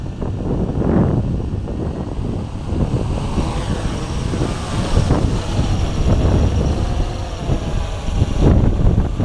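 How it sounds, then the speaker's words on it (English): Heavy outdoor wind buffets the microphone during a Blade 350QX quadcopter flight, a loud, continuous rumbling roar with gusty surges and no voices. "Really windy."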